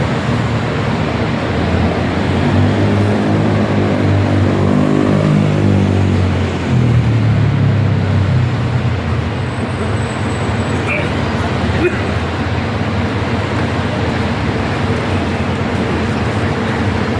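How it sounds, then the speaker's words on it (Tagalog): City bus moving through Hong Kong street traffic, its engine droning with a tone that drops as it slows and pulls past, over constant roadway roar, with voices talking in the background. "So ayan, city bus na naman."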